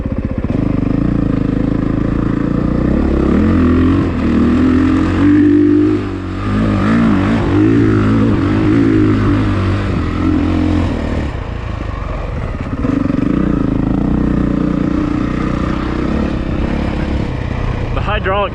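A 2022 Honda CRF450R dirt bike climbing a hill, its engine loud and close with sustained roaring and shifting revs, a brief dip midway, and a voice talking over the noise.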